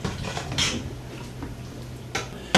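A utensil scrapes and clinks against a pan while seasoned stock is stirred, with a few sharp knocks spaced irregularly over a low background hum and no talking.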